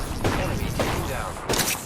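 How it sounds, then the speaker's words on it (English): Rapid gunfire bursts from an Apex Legends firefight during a battle royale match, dense and continuous with sharper volleys near the start and end, mixed with game noise. "I am taking fire, friends."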